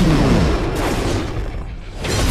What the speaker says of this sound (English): Oh, how big is the explosion?